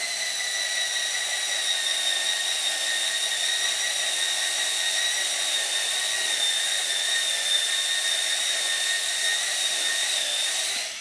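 Electric spin scrubber brushing a stain on wood, a steady high-pitched motor whine with a constant rough scrubbing hiss running unbroken for about eleven seconds, fairly close, with no talking.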